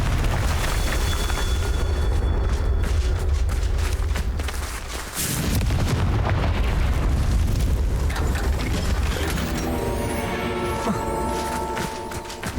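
A Confringo fire curse detonates in the game Hogwarts Legacy, a loud, sustained booming blast with rumbling crackle, a brief dip, then another surge of explosive roar trailing into ringing, tonal game effects.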